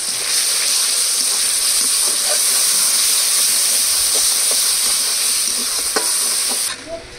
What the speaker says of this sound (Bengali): এখন অল্প করে লবণ দিয়ে দেবো, হলুদ গুঁড়ো, খুব সুন্দর করে কষিয়ে নেব।